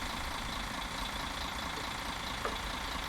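Bus engine idling in Fernbus Simulator, a steady, continuous low rumble with broadband hum that holds evenly throughout, with no talk over it.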